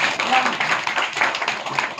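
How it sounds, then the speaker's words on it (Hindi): An audience at a motivational success-story talk claps enthusiastically, a dense, steady patter of many hands that runs the whole time and mixes with a voice speaking over it. "जबरदस्त तालियां बजरंगबली जी के लिए"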